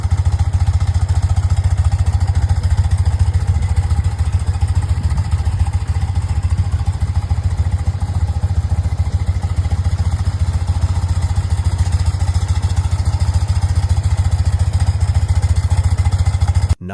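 Vintage BMW R100 RT touring motorcycle, a boxer-twin engine, running steadily at idle with a low, even rumble and light mechanical clatter, close and continuous throughout with no talk.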